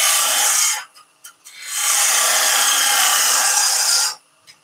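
Wood being turned on a lathe into a small ball top, a steady loud scraping hiss from the cutting tool that breaks off briefly with a few short touches, then resumes for a long even pass before stopping.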